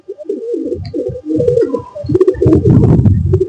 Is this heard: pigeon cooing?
yes